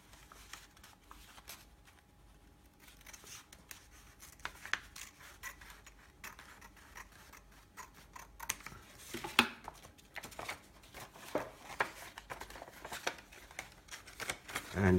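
Scissors trimming away part of a paper model of Khafre's pyramid, giving soft irregular snips and paper crinkling and rubbing, close and quiet, growing busier toward the end.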